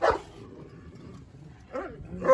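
A dog gives a short bark, followed after a pause by another sharper bark or yip, fairly close.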